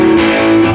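A single sustained distorted electric guitar chord played open without palm muting, loud and ringing with a buzzy, saturated tone for under a second.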